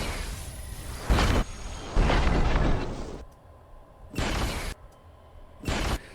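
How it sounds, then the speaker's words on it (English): Sharp laser-eye blasts from a sound effect library, four bursts that arrive in an uneven pattern, each a loud, bright whooshing zap over a steady hiss with a faint electronic tone between them. "click on the quick blast laser eyes sound effects"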